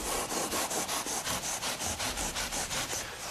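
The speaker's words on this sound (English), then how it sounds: "From there, it's a gradual process of just sawing off the excess." A sawing or scraping stroke drawn back and forth across wet mortar mud, screeding the excess down to wooden float strips on a floor bed for tile, repeating in a steady rhythm of about five strokes per second, close and alone.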